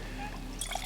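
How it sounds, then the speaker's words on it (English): Water poured into a GSI minimalist camping cook pot, a brief splashy trickle with a couple of small plinks near the end, close and fairly quiet. "I'm going to put some water in here"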